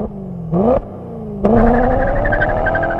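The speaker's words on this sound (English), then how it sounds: "the noise from the lusty 4-liter V8 makes up all that difference" A BMW M3 with a 4-liter V8 revs up close and loud. Two quick rising throttle blips give way to a sustained climbing engine roar.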